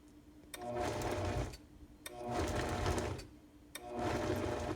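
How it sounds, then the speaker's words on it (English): Blending bowl motor grinds apples with no liquid, running in three loud whirring bursts separated by short pauses, close up and alone. "there's no liquid in here, so it's all just trying to grind everything together."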